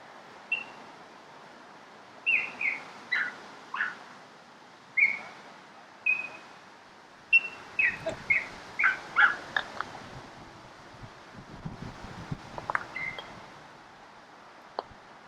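A bird calls outdoors during a croquet match in Buffalo. It gives repeated short, clear whistled chirps in clusters over a quiet open-air background, with a few softer rustles toward the end.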